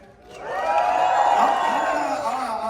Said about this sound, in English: That is definitely not enough applause for the star of our show.